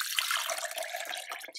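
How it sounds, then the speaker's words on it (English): Tea poured through a strainer into a jug, a short close splashing trickle of liquid that lasts under two seconds, with no talking. "So I've got my jug and I'm just going to strain"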